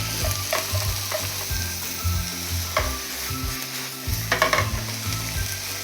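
Thin-sliced pork belly sizzles and fries steadily in a pan, a dense continuous crackle with occasional stirring scrapes and clinks, close and fairly loud with no talking.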